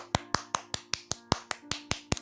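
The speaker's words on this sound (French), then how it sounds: "Et tous ensemble, avec moi, alléluia, gloire à Jésus-Christ, l'accueillons, nous l'applaudissons." A congregation claps during a French-language worship service, about ten sharp, evenly spaced claps in a steady rhythm, close and distinct with no voices over them.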